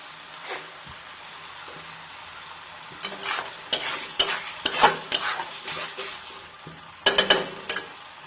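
Masala for egg curry fries quietly in a pan while a spoon stirs it in bursts, scraping and clattering against the metal over a soft sizzle, the scrapes loudest in the second half.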